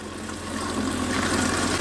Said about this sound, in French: vous tournez ici tout simplement et l'eau a coulé par là.